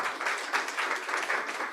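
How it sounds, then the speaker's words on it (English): An audience at a youth dialogue event claps for panelists, a brief, dense burst of applause from many hands at moderate distance. "Another round of applause to our panelists."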